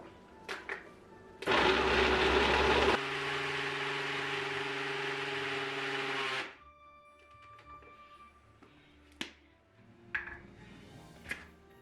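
A blender motor whirs loudly for a few seconds, then drops to a steadier lower hum before cutting off, followed by scattered small knocks.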